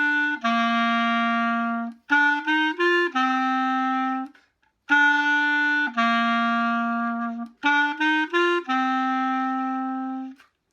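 A Bb clarinet plays a melody in two matching phrases, each with a long held note, quick repeated notes and another sustained tone, clear and close with no talking.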